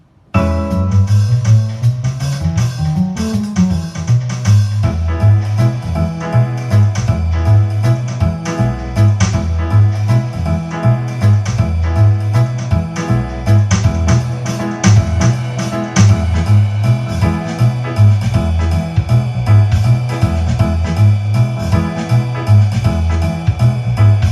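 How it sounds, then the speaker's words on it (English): A Yamaha CVP-75 Clavinova digital piano plays a jazz waltz accompaniment in E, with a swinging three-beat pattern and a walking bass line, steady and upbeat, with no voices. "the last rhythm for the preset is actually going to be called the jazz waltz"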